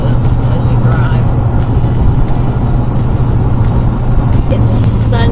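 Steady road roar from a car cruising on Interstate 84 westbound in Idaho on a hot afternoon, constant engine and tire hum with wind noise filling the whole stretch.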